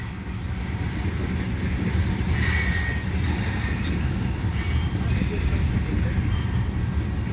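A westbound CN freight train pulled by five engines, with many tank cars, crosses the Lachine Canal bridge in a steady, loud rumble of wheels and clanking cars, with brief wheel squeals partway through.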